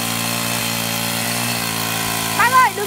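A chainsaw cutting through a large ironwood log drones steadily at a constant pitch in the background, with a voice rising briefly over it near the end.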